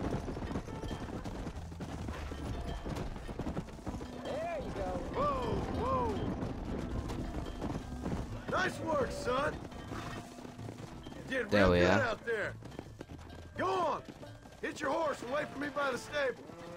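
Gunfire cracks out in Red Dead Redemption on Xbox 360: a cluster of sharp shots near the middle, then several more bursts toward the end, over game music and character dialogue.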